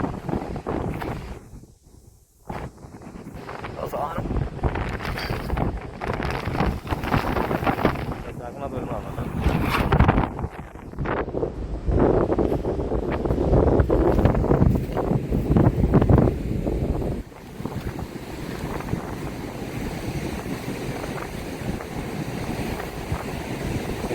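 Strong wind buffets the microphone on a seashore, a loud continuous rushing roar with surf mixed in, steady through most of the stretch and briefly dipping; a voice talks intermittently underneath.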